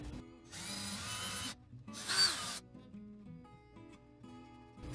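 Step bit drilling a hole through a wooden kitchen cabinet in two bursts, a close, loud whirring grind of about a second, a short pause, then a briefer second burst, with faint tonal hum in between.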